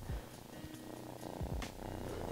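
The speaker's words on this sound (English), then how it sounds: "He purrs like right next to the microphone." A soft, steady purring close by, a continuous low rumble with faint rhythmic pulses and a little background noise.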